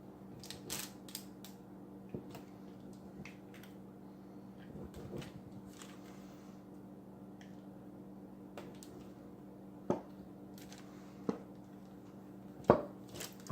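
Knife or cutter tip scoring lines into keto nacho dough spread on a baking sheet, a few faint, scattered short scrapes and taps over a steady low room hum, with a couple of sharper clicks near the end.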